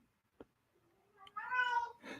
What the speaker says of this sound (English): She's in heat and she just keeps calling my name.